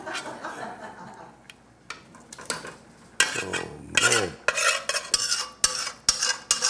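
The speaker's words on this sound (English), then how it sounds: "use a bigger spoon and get this all out of there in a hurry" A big spoon scraping and clanking against a cooking pot while emptying out venison stew, several quick metallic scrapes and knocks that grow louder toward the end, with faint talk early on.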